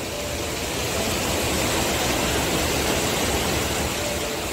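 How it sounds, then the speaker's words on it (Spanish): Water rushing down steadily in a nature reserve, a dense continuous broadband roar like a cascade or waterfall, close and even throughout with no voices. "Miren cómo baja el agua, qué belleza."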